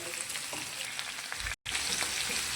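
Bay leaves fry in hot oil while shahi paneer is being cooked, giving a steady, fairly loud sizzle that cuts out for a split second and then resumes.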